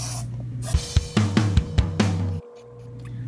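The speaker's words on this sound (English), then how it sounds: "you can use a butter spray or a normal cooking spray just so it won't stick on the bottom" A few short hissing bursts of cooking spray into a cupcake tray in quick succession over a steady background hum, close by, then the hum drops away.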